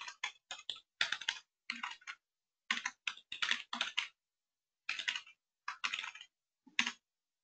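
Bursts of typing on a computer keyboard while entering an email address at a login screen, rapid clustered keystrokes in several runs with short pauses between, close and clear with no talk.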